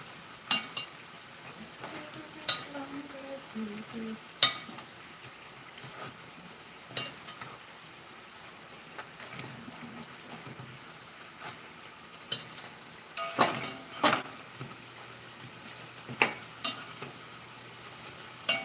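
Dumplings frying in a home kitchen pan give a faint steady sizzle, punctuated by sharp clicks and clinks of utensils against the pan at irregular intervals, with no talking.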